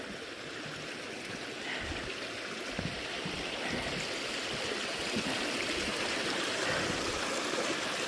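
A creek flows steadily beneath a footbridge on a trail toward Bottleneck Lake, giving a continuous close rushing and babbling wash of water with no voices.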